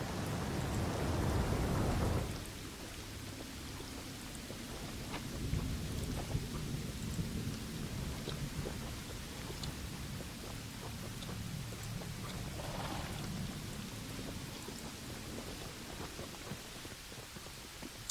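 Rain and thunder in the fantasy video game Pathfinder: Wrath of the Righteous, a loud thunder roll at the start fading into steady hissing rainfall with soft distant rumbles underneath.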